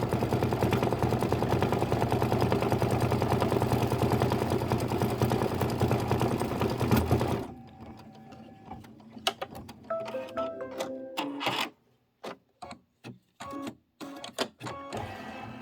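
An embroidery machine stitches out an autumn apple and hay ride design, its steady rapid needle clatter loud and continuous for about half the clip, then stopping and giving way to scattered handling clicks and rustles.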